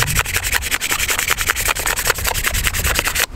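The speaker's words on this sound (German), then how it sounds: "Einfach so ein bisschen abreiben." A hand-carved wooden spoon is rubbed and sanded with rapid back-and-forth scratchy strokes, close and continuous, with no pauses.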